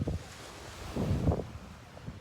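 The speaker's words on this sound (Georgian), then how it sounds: "ჩვენ ზღვაზე ვართ." At a sea beach, wind buffets the microphone as surf washes in, with low rumbling gusts swelling in the middle and no voices.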